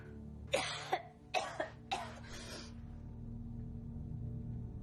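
Four sharp, raspy coughs come in quick succession near the start, then fade into quiet background noise.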